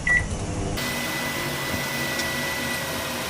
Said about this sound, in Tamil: இப்போ நான் அவனில் வைக்கிறேன்.